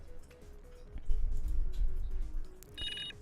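Brief electronic phone ringtone in a visual novel video game, a bright chiming tone rising near the end over low rumbling background, no talk.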